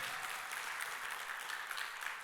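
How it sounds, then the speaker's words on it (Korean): A congregation at a Korean church service applauds together, a dense, steady wash of clapping that holds at an even level throughout with no voices standing out. "하나님께 영광의 박수 올립니다"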